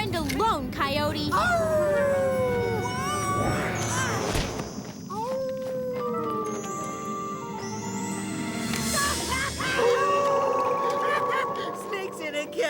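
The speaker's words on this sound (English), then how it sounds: "Coyote." A cartoon coyote lets out a long wavering howl with yips and barks, loud and up front, mixed with music and a thud from a children's vampire cartoon.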